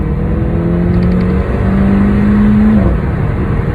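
A 2020 Mercedes-AMG A45 pre-facelift hatchback revving up close, its engine holding a loud, steady droning note that climbs slightly before cutting off, with no distinct exhaust pops standing out.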